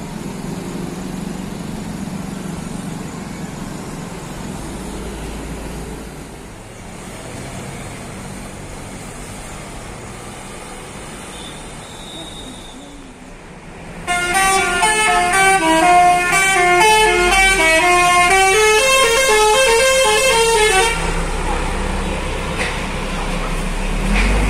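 Scania tronton bus departing, engine rumbling low before a loud, long multi-tone musical horn melody blares close by for several seconds over the idling engine.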